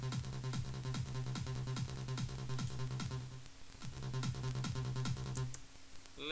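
Dry psytrance synth bass from the PsyShark plugin with all insert effects switched off, a rapid rolling pulse locked under a steady kick beat that drops out briefly midway, played alone at a modest level.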